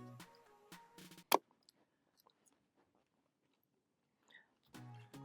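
Close, crunchy bites and chewing on Dave's Hot Chicken and pickle, with one sharp loud crunch among softer mouth sounds, bracketed by brief talk at the start and end.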